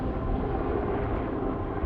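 Firefighting aircraft flying overhead during a wildfire in rugged canyon country, heard as a steady, loud, broad engine roar that fills the whole moment without pause or talk.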